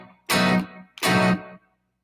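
Two distorted electric guitar strums for a shuffle pattern, a downstroke running into an upstroke, each chord burst short and sharply cut off, played alone with a clear gap between them.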